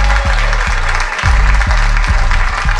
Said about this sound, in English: Clap for Alonzo Bodden